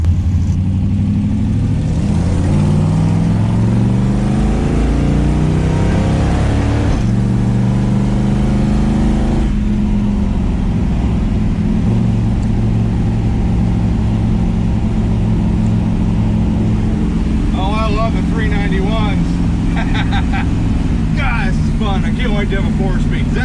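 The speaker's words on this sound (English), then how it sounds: "I think he went vroom vroom." Dodge Dart car fitted with 3.91 rear gears revving and accelerating, its engine note rising and falling through several loud pulls, then settling to a steady idle-like drone, with someone talking over parts of it.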